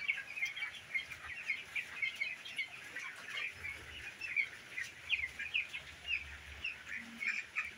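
Chickens on a small farm cluck and chatter softly in a steady, overlapping stream, fairly faint and close, with no talking.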